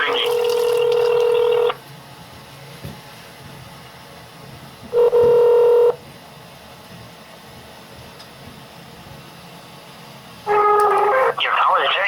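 Three bursts of an electronic telephone ringing tone, each over a second long, separated by pauses with faint background noise.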